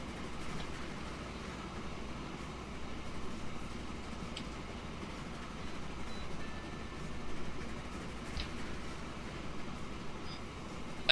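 A small steam train running in the simulation game Transport Fever, a steady low rumble and rolling clatter at moderate distance, continuous and fairly faint, with no voices.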